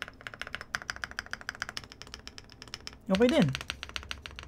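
Clicky keystrokes on a Rakk Sinag Pro mechanical keyboard, a steady run of close, crisp key taps with a brief spoken voice cutting in near the end.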